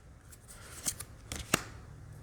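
Soft riffling and flicking of oracle cards being shuffled, with a few sharper snaps in quick succession, close and quiet.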